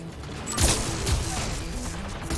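Turret gunfire in Mass Effect 3 on Rannoch, heard as a dense crackling fusillade with two heavier thumping bursts near the start, continuing steadily at moderate loudness without speech.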